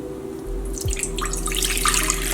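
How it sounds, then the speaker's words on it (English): Water poured into a pan for making marshmallow syrup, a short splashing trickle that starts softly and grows into a bright, close pour. "Now add water in the pan."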